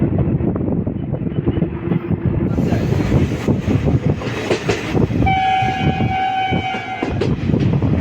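The Mettur Dam Express running on the tracks between Salem and Mettur Dam, a loud continuous rumble and rattling clatter with wind buffeting, and a horn sounding steadily toward the end.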